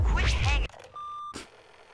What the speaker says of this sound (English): I have the alarm going off.